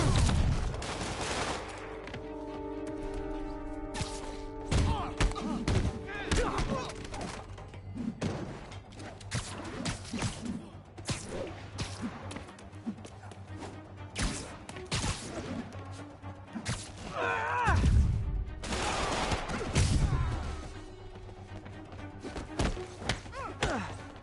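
Gunfire and impacts from armed enemies in a Spider-Man video game, bursts of shots and heavy thuds scattered over a busy combat mix, with game music and brief voices underneath.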